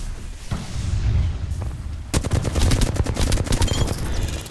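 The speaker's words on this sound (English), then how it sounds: "They're shooting at me" Rapid bursts of video game gunfire crackle close and loud, with a murkier stretch of shots giving way to dense, repeated automatic fire in the second half.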